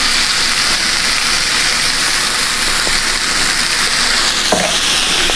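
Loud, steady sizzling of steak searing in a hot cast iron skillet, a continuous crackling hiss with a few faint clinks, no voices.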